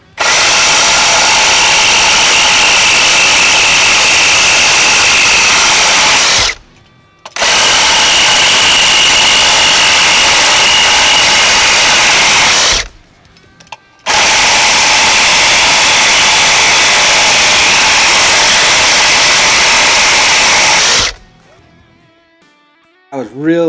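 A Milwaukee M18 Fuel cordless Sawzall reciprocating saw with a 12.0Ah battery cuts through 3/4 inch steel in three long, loud, harsh bursts separated by short pauses, close up and dominating.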